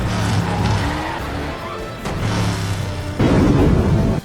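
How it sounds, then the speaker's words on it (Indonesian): A film car chase from Captain America: The First Avenger, with a car roaring off at speed, engine loud and continuous, tires squealing and skidding, and a surge of engine noise near the end. "Mereka tancap gas mengejar Red Skull."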